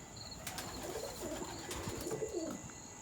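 Young racing pigeons cooing in a loft, soft repeated low coos overlapping in a gentle rhythm, faint and close, with a few higher chirps and light rustling, no talking.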